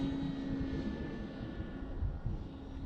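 A radio-controlled plane flies on a windy day, its faint steady motor drone heard briefly before it fades into gusty wind rumble.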